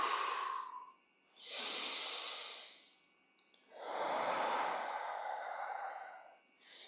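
Slow, audible breaths during a glute activation exercise: long airy inhales and exhales in a steady rhythm, close and fairly loud, with no talk over them.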